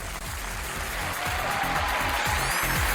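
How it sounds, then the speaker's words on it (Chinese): Studio audience applause on a Chinese relationship-mediation TV show, a steady dense wash of clapping that holds at an even level throughout, with faint music underneath and no clear talk. "掌声有请这一对，有请。"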